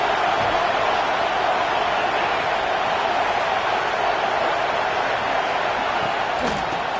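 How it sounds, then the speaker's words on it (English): A college football stadium crowd at the Crimson Tide's home field roars on third down, a continuous, even wall of noise that holds steady throughout, with no distinct voices standing out. "The Tide crowd roaring noise down on the Saban field on third down."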